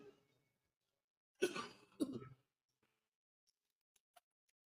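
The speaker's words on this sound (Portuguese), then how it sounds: "De um tempo para cá, eu tô com essa tosse de novo." A man coughs twice in close succession, two short raspy bursts in a quiet room, followed by faint small ticks and clicks.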